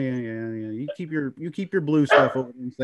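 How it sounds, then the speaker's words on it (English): A husky barks and yips in quick bursts near the microphone, overlapping with someone talking casually. "Sorry for the dog barking here."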